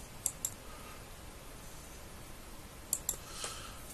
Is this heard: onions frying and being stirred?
no